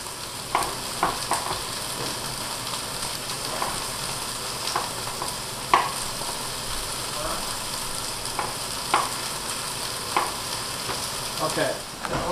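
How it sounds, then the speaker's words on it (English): Okra and garlic sauté in a pan, giving a continuous frying hiss with periodic scraping clicks as the mixture is stirred, steady and close. "the okra and garlic mixture seems to be cooking perfectly"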